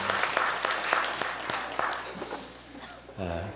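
Church congregation applauding, a dense patter of claps running under someone speaking, fading toward the end as a voice rises.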